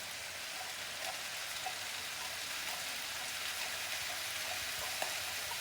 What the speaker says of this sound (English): Now let's put 8 ounces of tomato sauce